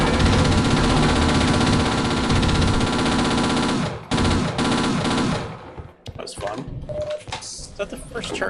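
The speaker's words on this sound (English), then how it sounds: "Is that the first turret section of this game?" A turret machine gun firing in the video game Half-Life, heard as a dense, continuous loud rattle that cuts off midway, leaving scattered clicks and softer game sounds, with voices speaking over it.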